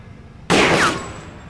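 A single gunshot from a video game blasts out loud and abrupt, then trails into a short fading ring over quiet background.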